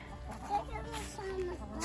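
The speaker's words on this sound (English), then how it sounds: "We are gonna have some fat chickens, aren't we, Mr. Jack?" Soft clucking from a chicken, a couple of brief calls close by, with faint background noise.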